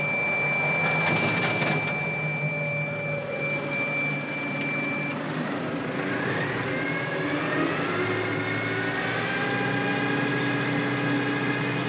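A tractor engine runs steadily at working RPM while driving a winged mower, giving a loud, constant drone with a high whine layered on top that shifts partway through.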